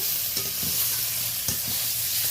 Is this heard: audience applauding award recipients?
no